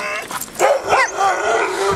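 A sled dog being cared for before the Iditarod race gives short yips and whimpering, whining cries, close and loud in quick bursts over about two seconds.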